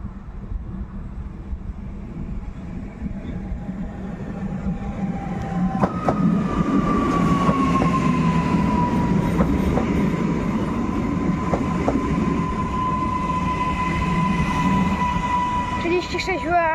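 An SM36 diesel locomotive hauling a passenger train between Oświęcim and Katowice rumbles steadily, a sustained drone joined midway by a tonal squeal or whine and occasional clanks, close and continuous.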